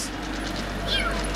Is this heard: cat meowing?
yes